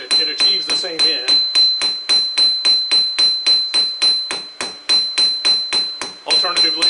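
A cross peen hammer strikes hot metal during forging at a steady, fast rhythm, with about twenty sharp, ringing blows close by and only brief gaps between them.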